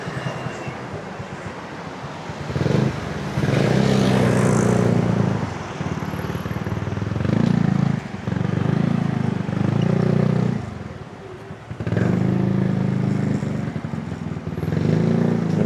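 A motorcycle engine drones close by on a road in the Philippines, its low rumble rising and falling in several loud surges over about fifteen seconds, with brief dips between passes and no clear talk over it.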